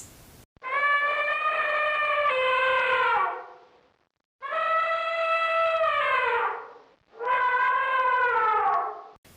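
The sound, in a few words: elephant trumpeting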